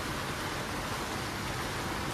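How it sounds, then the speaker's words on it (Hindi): Heavy rain pours down in a dense, steady hiss that fills the whole stretch without a break, with no voices over it. "उतर बहुत ज़्यादा बरसात आ रही"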